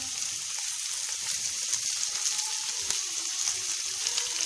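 Onion frying with carrot in a pan, a dense, even hiss of sizzling oil that holds steady and close for several seconds, with no stirring strikes or voices.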